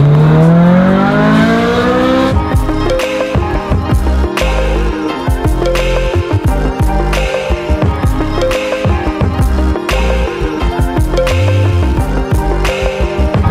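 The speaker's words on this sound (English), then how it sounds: "Many Ferrari people and non-Ferrari people would consider this to be one of the best sounding Ferraris." A Ferrari F355 driving, its engine loud and close throughout, rising in pitch at the start and then pulling steadily with rhythmic shifts and revving.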